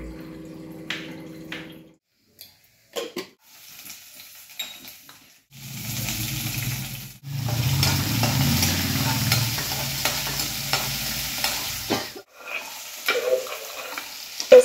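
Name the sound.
garlic and green chilli frying in cumin-mustard tempering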